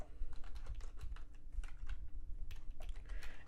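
Typing a username on a computer keyboard, with a quick irregular run of soft clicky keystrokes close by, quiet and without talk.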